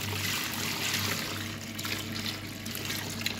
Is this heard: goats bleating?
no